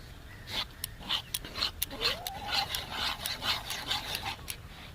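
A hand whisk mixes milk powder with water in a bowl, making a run of quick, rhythmic scraping and swishing strokes, soft and close, with a faint squeak midway.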